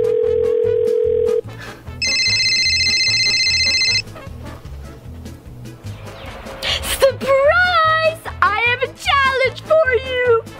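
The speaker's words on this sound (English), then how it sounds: "time to prank call Heather" A phone placed for a prank call gives a steady tone, then a patterned electronic ring, followed by an excited childlike voice talking close up over a low rhythmic background beat.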